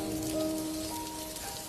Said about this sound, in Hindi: एकदम से बारिश भी शुरू हो जाती है।